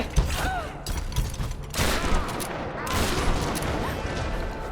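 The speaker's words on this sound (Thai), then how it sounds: "มันยิงอยู่เลย" Gunfire crackles in a Tomb Raider fight, rapid close bursts of shots mixed with metallic clanks and game noise.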